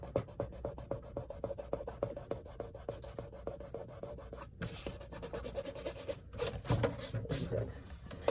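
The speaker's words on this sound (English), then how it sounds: "if you got the glue on there, if you just rub it, it'll just come off" A finger rubs excess glue off a folio cover, making a fast, steady rhythmic scrubbing close by, with a few short pauses and slightly heavier strokes near the end.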